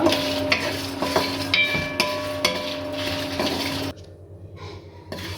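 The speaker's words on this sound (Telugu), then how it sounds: "ఇప్పుడు దీంట్లో నేను ఒక 6 రెడ్ చిల్లీస్ తీసుకున్నాను అనమాట. ఇది కూడా వేసి కొంచెం ఫ్రై చేసేసుకుందాము." Six dried red chillies fry in a hot pan, giving a close, busy sizzle with a few scraping stirs and clinks, before the sound drops off sharply to a quiet, faint hiss near the end.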